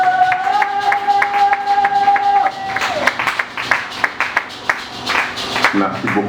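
At a church conference, a congregation applauds and cheers a visiting apostle, with a steady beat of clapping over sustained keyboard chords and voices, loud and lively throughout.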